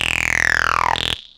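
Synthesized acid jump-up stab, a loud, buzzy, resonant sweep falling steadily in pitch over about a second before cutting off sharply, heard alone.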